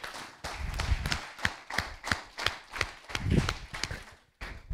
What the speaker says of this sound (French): Moi, je vais l'applaudir.